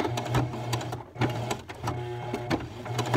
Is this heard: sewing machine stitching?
yes